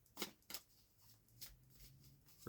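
Playing cards handled and shuffled while a few are picked out: quiet, close riffling bursts and soft card snaps, a few short flurries in a calm, hushed room.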